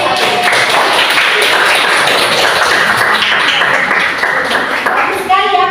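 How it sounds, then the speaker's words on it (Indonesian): Students in a classroom clap for the best group, a loud, continuous patter of hand claps filling the room from start to finish, with voices faintly mixed in. "Silakan tepuk tangan."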